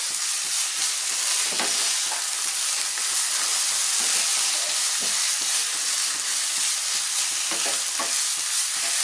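Bottle gourd halwa fries in a pan with a constant bright sizzle, while a spoon repeatedly scrapes and stirs through it at close range.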